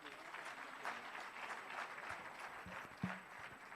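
Audience applause at a township economy summit, steady clapping from a crowd at moderate distance, with a voice speaking briefly over it.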